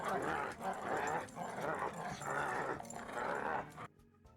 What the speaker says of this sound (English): the vocals of the dog was taken from Ken Pontiac's dog